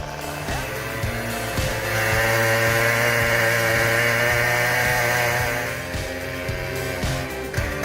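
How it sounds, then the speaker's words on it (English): A Stihl MS-881 chainsaw with a 67-inch bar roars loud and close while cutting through a huge log, its engine pitch rising and holding steady under load before easing off. "The Steel MS-881, with its massive 67-inch bar, cuts through that huge log like it's nothing."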